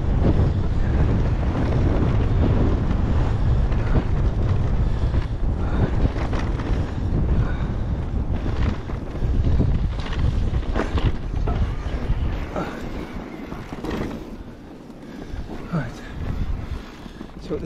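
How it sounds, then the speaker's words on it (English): Strong wind buffets the microphone out on open chalk downs, a loud continuous low roar with gusty surges that eases slightly toward the end, with a voice faintly mixed in. "Good runs down here, but it's a bit windy today."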